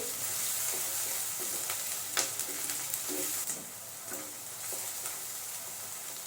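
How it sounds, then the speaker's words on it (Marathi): Paneer bhurji base sautéing in butter and oil in a pan, a steady close sizzle and fry hiss with occasional scrapes of stirring throughout. "तीही तेलामध्ये आपण परतून घेऊया"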